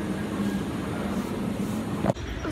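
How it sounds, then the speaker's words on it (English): Train station ambience: a steady broadband rumble and hum fills the space, with a brief sharper transient near the end and no speech. "right now we are in the train station"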